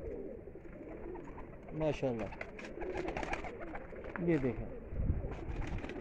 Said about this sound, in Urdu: دیکھیں جی یہ وہ کبوتر ہے